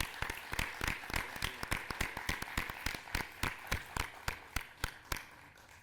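Audience applause at a book presentation in a chamber hall, rendered as a rhythmic run of fairly loud, evenly spaced claps, almost like a steady beat, continuing for several seconds without talk.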